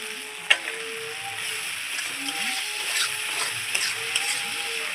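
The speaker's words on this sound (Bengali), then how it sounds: "বাটারটা আমি দিয়ে দিলাম" Melted butter poured into a pan of tilapia fish masala frying on the stove, giving a steady close sizzle with soft scraping stirs and a sharp clink near the start, no voices.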